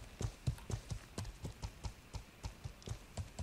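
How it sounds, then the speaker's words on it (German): Horse hooves clip-clop at a steady, even trot while riding in the medieval game Life is Feudal, with the regular beats close and clear and no talk over them. "Aber jetzt reite ich wieder Richtung Deck sein Dorf"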